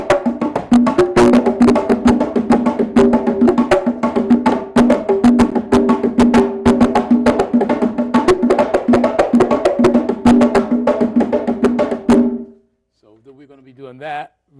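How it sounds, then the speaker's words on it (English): Three hand drums interlock on a bembe rhythm in 6/8, a dense, loud, steady ensemble of conga strokes that continues for about twelve seconds before stopping abruptly, with faint talk after the stop. "So what it'll sound like this once it's put together."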